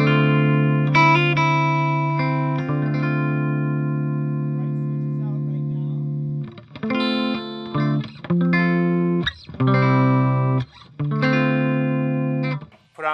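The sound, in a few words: electric guitar through Fender Twin clean channel, Marshall cab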